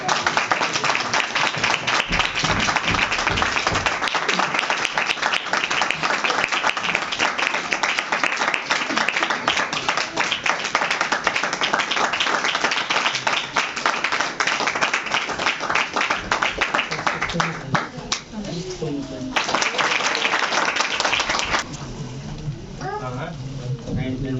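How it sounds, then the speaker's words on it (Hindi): An audience at a ninth-anniversary healing ministry gathering breaks into dense, loud applause that rolls on for most of the stretch before thinning out, with a voice speaking alongside it. "डबल ताली हो जाए"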